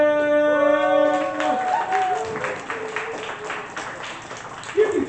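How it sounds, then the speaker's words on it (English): A poetry slam audience breaks into applause for the host, clapping that builds under a speaker's voice, with scattered cheers near the end. "please give a huge round of applause to your host for the first half of the night"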